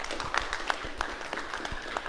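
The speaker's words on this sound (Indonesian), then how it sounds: "Mari kita beri aplaus dulu kepada beliau." Scattered applause for a speaker during an online national webinar, a thin, faint patter of separate claps in an irregular rhythm, few hands at a time.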